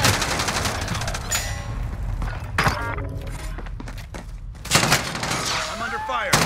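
Video game gunfire in rapid bursts of automatic shots, loud and close, with a brief lull mid-way before another heavy volley and scattered impact sounds.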